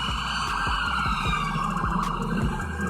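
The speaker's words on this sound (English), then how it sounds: "He sound like he got about 8 police cars on his ass." Loud wailing police sirens, several overlapping, rising and falling continuously with traffic rumble beneath.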